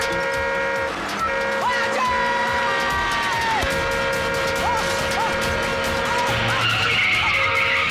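Tires screech and skid as a car is driven up on two wheels in a Hindi comedy film scene, a sustained squeal with sweeping tones over busy background noise.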